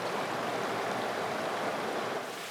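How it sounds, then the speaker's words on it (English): Stream water rushing through narrow valleys and gorges in the lower Harz, a steady, dense, hissing flow heard alone at moderate volume. "In the lower Harz, the water makes its way through narrow valleys and gorges."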